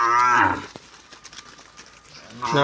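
Cattle and buffaloes are driven to a pond on a village pasture. One loud, close moo opens the stretch and another begins at the end, with soft rustling and shuffling in between.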